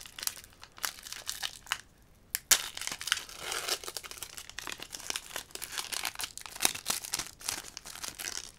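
Crinkly foil wrapper of a Pokémon card booster pack from a Legendary Treasures Ho-Oh box being torn open close up, a steady run of soft crackling and ripping with small sharp snaps.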